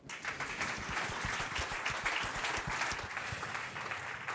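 Sustained applause from an awards ceremony audience, steady dense clapping filling the whole stretch without a break.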